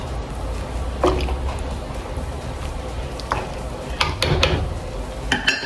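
Coconut milk being stirred into callaloo soup in a pot gives soft liquid sloshes, drips and a few sharper clinks of a utensil against the pot, close and irregular.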